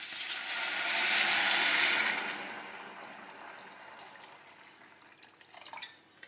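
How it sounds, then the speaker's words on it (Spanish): Water is poured into a pot while making fish soup, a steady splashing rush that swells and then tapers off, with a few drips at the end. "les voy a echar aproximadamente medio litro de agua."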